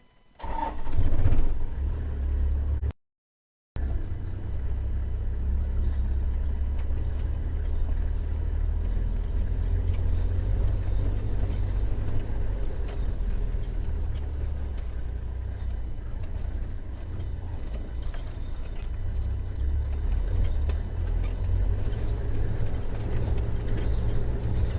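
A safari vehicle drives along a riverbed, its engine starting and then running in a steady, close, low rumble with no talk.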